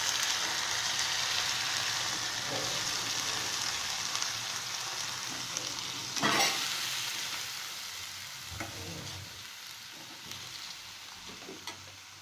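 Cut beans and carrots frying in a pan for a carrot beans poriyal, a continuous close sizzle with occasional scrapes and clatters of stirring.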